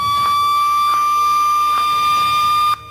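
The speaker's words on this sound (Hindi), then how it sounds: "जिसके बाद बजेगा मुंबई में सुनामी का ये सायरन" A loud, steady electronic tsunami warning siren in Mumbai, sounding in a test, drones on one piercing tone with faint periodic pulses, then cuts off abruptly just before the end.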